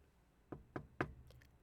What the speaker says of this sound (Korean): 사유리의방 앞에서 노크했다.